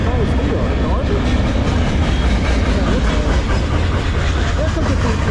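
Eastbound CSX M404 freight train rolling past at close range, a loud, steady rumble of wheels and railcars with faint clickety-clack and engine drone running throughout.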